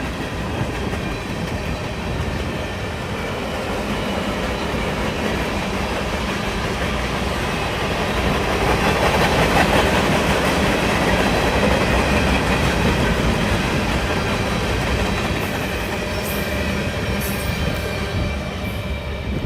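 A long freight train rolls past at close range with grain hopper cars and a couple of small tank cars, a steady loud rumble of wheels and rail clatter that swells slightly midway and holds throughout without a break.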